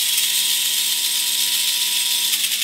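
A Tamiya mini 4WD race car's small electric motor runs continuously with a steady, loud, high-pitched whine and a constant even hum throughout, without any speech.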